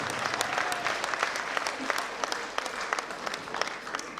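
An audience at a live stage concert claps steadily and loudly throughout, a dense, even wash of applause with a few crowd voices faintly underneath.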